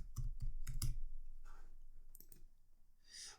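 Rapid clicks of typing on a computer keyboard, a few quick bursts of keystrokes close up, then sparser taps, with no talking.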